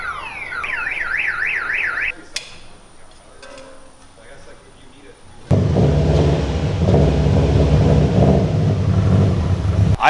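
A tuned Subaru WRX or GR Corolla gives a loud, deep, bassy exhaust drone that kicks in abruptly partway through and holds steady to the end, after a wavering siren-like alarm tone and quieter clatter.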